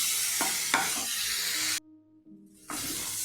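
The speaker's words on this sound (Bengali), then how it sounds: "মশলাটা ভালো করে কষিয়ে নিই" Spice paste with tomato sizzles as it is fried and stirred for a fish curry, with a few scraping strokes, then a brief near-silent gap before the frying hiss returns.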